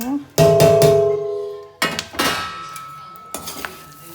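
Salted peanuts are transferred from a pan onto a plate with several ringing metallic clangs and scrapes, a loud cluster at first then more clanks after pauses, with a voice speaking in between.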